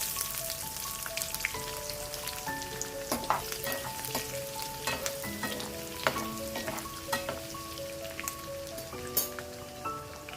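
Fenugreek, cumin and onion fry in a pan for a South Indian pepper curry, a steady crackling sizzle with sharp pops and occasional stirring, heard close under soft background music, with no one speaking.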